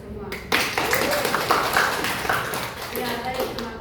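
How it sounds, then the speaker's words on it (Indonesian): Schoolchildren in an Indonesian classroom clapping after finishing their presentations, a burst of close applause that starts abruptly and carries on for a few seconds, with a teacher's voice in between. "Tepuk tangan dulu untuk kita semua."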